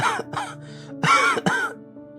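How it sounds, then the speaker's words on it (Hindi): Several forced coughs and throat-clearing bursts, harsh and close, grouped in two quick bunches with brief pauses between. "खांस करके देखोगे तो कैसे"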